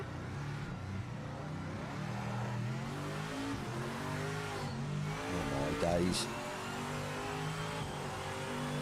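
Race car engine in the Project Motor Racing video game revving and shifting through gears at moderate volume, with a brief tire squeal, heard under someone talking.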